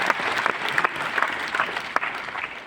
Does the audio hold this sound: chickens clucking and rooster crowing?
no